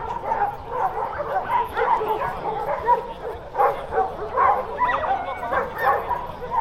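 Dogs yip and bark in quick irregular bursts at a dog show, with whimpering tones and people talking underneath.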